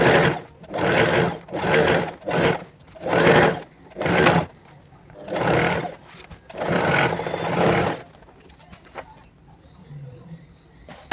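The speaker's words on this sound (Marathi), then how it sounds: "पलटून इथे कडेकडेने टिप मारून घेऊया अस्तरला." A sewing machine runs in repeated short bursts, stitching along the edge of a blouse lining, about eight close, steady whirring runs separated by brief pauses, then quiet handling noises.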